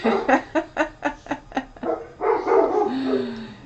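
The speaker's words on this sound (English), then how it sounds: "the dogs next door must agree" Dogs next door bark in a quick series of sharp, evenly spaced barks at moderate distance, trailing into a longer whining yelp.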